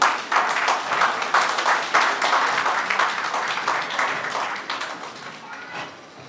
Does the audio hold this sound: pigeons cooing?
no